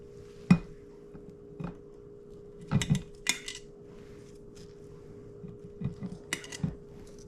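Metal tongs handling a shredded cabbage sauerkraut mix into 2-quart glass mason jars, giving scattered clinks and clatters at irregular intervals, close and crisp against a quiet background hum.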